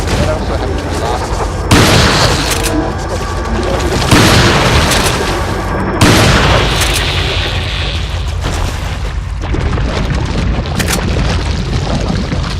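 Gunshots in the Resident Evil 4 video game, a few loud booming blasts spaced a couple of seconds apart over a dense game soundtrack, with a voice talking alongside.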